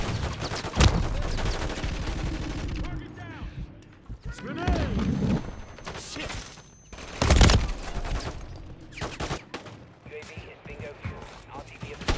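Bursts of automatic gunfire and sharp gunshots in the Call of Duty Warzone video game, loud and close, with a few heavy cracks standing out and a voice speaking between the bursts.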